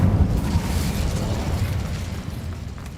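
The Incendio fire spell is cast in the Hogwarts Legacy video game as a single loud fiery burst with a whooshing roar that slowly fades over a few seconds, with no voice.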